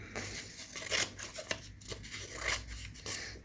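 Repeated snips and crisp slicing strokes of scissors cutting through material, close and irregular in rhythm, with no speech.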